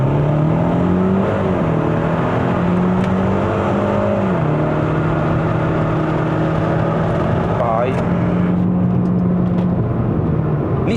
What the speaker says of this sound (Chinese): 那我们现在就来做一个0到100测试的环节啦